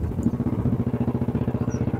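A motorcycle rides along a road toward the Majuli bridge, its engine putting out a steady, close, rhythmic pulsing throb for the whole stretch with no talk.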